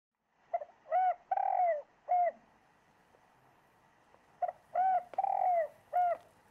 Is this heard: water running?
no